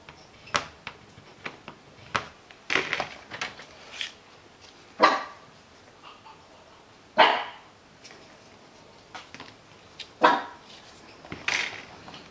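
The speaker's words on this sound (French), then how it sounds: "Il y a un chien qui aboie" A dog barks in the distance, a dozen or so sharp, faint yaps spaced irregularly over quiet background, with soft close-by handling noises of thick paper being folded.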